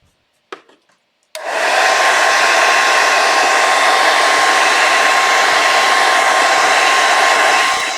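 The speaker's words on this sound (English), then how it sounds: "I'm gonna help it out a bit with my blow dryer" A handheld blow dryer switches on with a click and blasts a loud, steady, unbroken roar close by while drying wet acrylic paint on a canvas of soft pink flowers.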